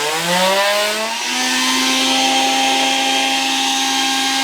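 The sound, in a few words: blender running on Bluetti Elite 100 V2 power station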